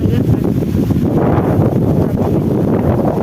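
Strong, steady wind in a park buffets the microphone in a continuous low roar, with a faint voice underneath.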